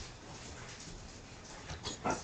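Dogs whimper and yip excitedly indoors, faint and close, with a louder whine near the end over a low background hum.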